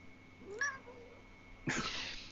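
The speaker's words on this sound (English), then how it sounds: "while Pastor Bill wrestles the cat off of his face" Faint cat meow, a short rising call early on, followed by a breathy hiss-like burst later, quiet and close in an otherwise calm indoor room without speech.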